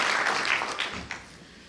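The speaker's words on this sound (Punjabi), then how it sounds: "ਡਾਕਟਰ ਹਰੀਸ਼ ਕਰ ਦੇ ਸਨਮਾਨ ਵਿੱਚ ਜ਼ੋਰਦਾਰ ਤਾੜੀਆਂ ਸਵਾਗਤ ਜੀ ਤੁਹਾਡਾ" Audience applause at a public event honouring Dr. Harish Khare, a broad wash of many hands clapping that starts full and steadily thins out and fades over under two seconds.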